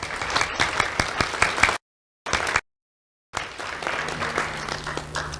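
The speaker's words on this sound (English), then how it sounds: "Let's have a round of applause for the school board and Dr." A crowd at a school awards ceremony applauds the school board and superintendent, a thick clatter of many hands broken by two short dropouts of total silence before resuming.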